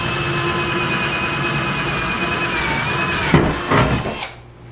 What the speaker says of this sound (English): This is the scariest part of drilling into your car.